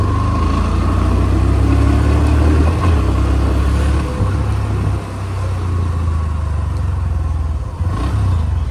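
A Bajaj Pulsar NS125 BS6 motorcycle engine idles close by with a loud, steady low rumble that dips briefly a couple of times, as if faltering.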